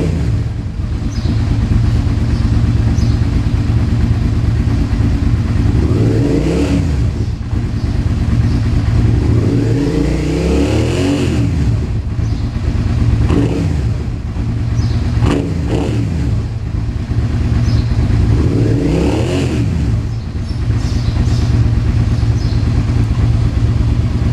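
A Suzuki SV650 motorcycle engine runs loud and close at a steady idle, with several rising and falling revs spread through the stretch and no talk over it.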